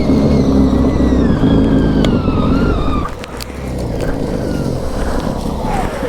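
A snowmobile engine runs steadily while riding through deep snow on a sunny day, a loud droning motor with a pitch that sweeps up and down, dipping briefly midway before settling back to a constant roar.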